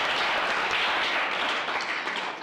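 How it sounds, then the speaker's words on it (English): A crowd at the 19th SANParks National Parks Week launch in Marakele National Park applauds the Minister, a steady wash of clapping that holds level for the whole stretch with no voices over it. "May we give the Minister a round of applause"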